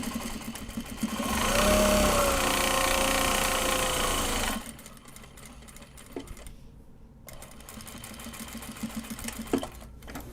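A sewing machine runs a loud, steady burst of stitching for a few seconds, laying a row on a card holder made from Japanese fabric. Quieter handling sounds and faint clicks follow once the motor stops.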